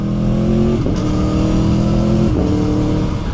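Sports motorcycle engine holding steady revs with two brief dips where a quick shifter and auto-blipper cut and catch the gear, a slightly delayed change, loud and close with no talk.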